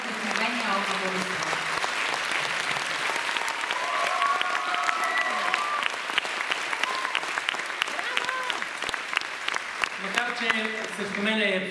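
An audience at a folk music school concert claps steadily throughout, a dense sustained applause close by, while a voice speaks over it near the start and again near the end.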